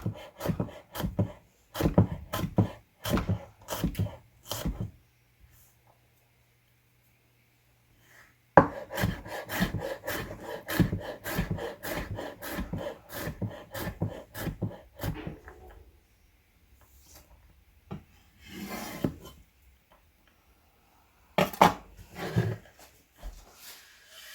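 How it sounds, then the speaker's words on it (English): A knife chops celery and other stew vegetables on a wooden cutting board. Two runs of steady, close rhythmic thuds are broken by a short silence, and a few scattered cuts follow at the end, with no speech. "Cut it up into pieces that will saute up really nice."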